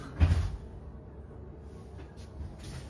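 A drawer in a camper van slides and bumps shut once near the start, a close, dull knock, followed by quiet cabin noise and a faint rattle.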